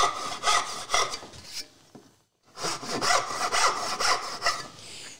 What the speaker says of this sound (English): We'll put a piece of 5/8 inch pine in there, and I'll come in and I'll cut a tail with the dovetail saw.